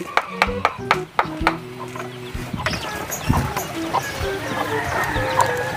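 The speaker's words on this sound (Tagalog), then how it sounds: "Manok na yan." Chickens cluck in short, repeated bursts at close range on a Philippine farm with chicks around, while a person talks over the clucking in the background.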